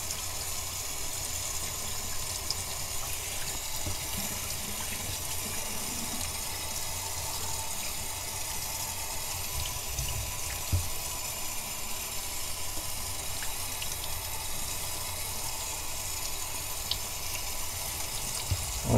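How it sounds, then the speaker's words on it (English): Tap water runs steadily into a sink while a cloth face mask is rinsed, a continuous close splashing stream with no voices. "Make sure the soap is all rinsed out."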